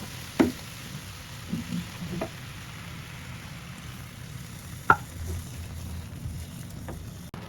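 Milk is stirred into a pot of Mr. Noodles spicy ramen: quiet, soft swishing with a few sharp utensil clinks against the pot, spaced irregularly and heard close up.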